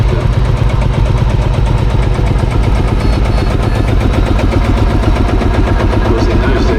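A vintage Ferguson tractor engine runs at a steady idle at a steam and country fair, a loud close rhythmic chugging with regular firing pulses, continuous and without talk.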